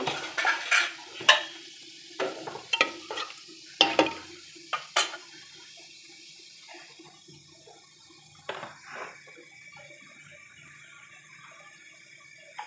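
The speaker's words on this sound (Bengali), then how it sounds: "দিয়ে এটা আমি বেশ কিছুক্ষণ নাড়াচাড়া করব।" Whole cardamom, cloves, black pepper and cinnamon are stirred in a pan, producing a cluster of sharp scraping clatters early on, then sparse light scrapes over near-quiet.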